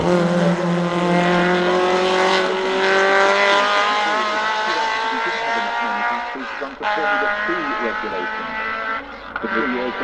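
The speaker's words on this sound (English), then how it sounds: "So this was typically a bit Formula 1 car, but with the big American engine." A Formula-style race car with a big American engine at the Goodwood Festival of Speed, its engine droning and climbing in pitch as it passes, loud and sustained, with a commentator talking over it.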